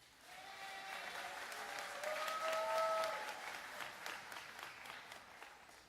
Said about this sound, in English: let's give our classmates another round of applause